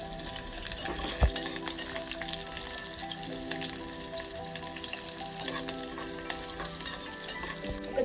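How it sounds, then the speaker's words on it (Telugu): Dried red chillies and chopped onion fry in a pan for a cluster beans dish, a continuous close sizzle and crackle with occasional stirring clinks and one sharp knock. "ఇప్పుడు కొద్దిగా ఫ్రై అవ్వనిద్దాం."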